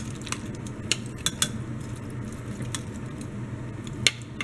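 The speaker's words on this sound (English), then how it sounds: "we'll just turn all this meat over" Venison shanks being turned over in a slow cooker crock pot, with a few sharp utensil clinks against the pot and soft wet shifting of meat in liquid, close and fairly quiet.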